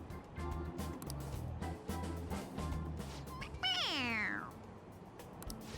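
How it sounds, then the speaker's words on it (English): A stuffed toy cat from Persona 5 Royal lets out one clear, drawn-out meow that falls in pitch when squeezed, rising over steady game background music. "It meows when you press on its head."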